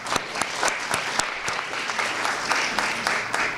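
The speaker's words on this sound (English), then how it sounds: "So a round of applause for them." Audience applause at a 2023 National Junior Honor Society induction, continuous clapping with sharp individual claps standing out near the front, moderately loud and without talk over it.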